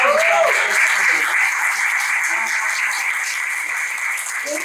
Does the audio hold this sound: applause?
yes